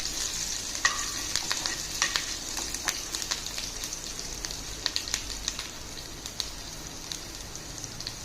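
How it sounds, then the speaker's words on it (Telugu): Green chillies and chopped curry leaves frying in a pan for Telangana-style aloo paratha, a steady close sizzle with scattered sharp crackles and pops throughout, no voices. "ఆ తర్వాత చిన్నగా కట్ చేసుకున్న కరివేపాకు ముక్కలు ఇలా కట్ చేసుకోవాలండి ఇంకొంచెం కొంచెం ఫ్రై చేసుకోవాలి"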